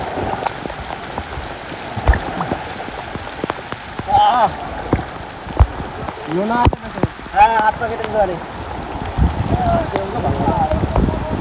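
Heavy rain pounds steadily on surfaces around a moored boat in a storm, loud and continuous, while several people talk nearby.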